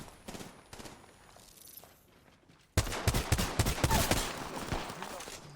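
Bursts of rapid gunfire in the video game Apex Legends, quieter shots at first, then a loud, dense, sustained volley with sharp individual cracks.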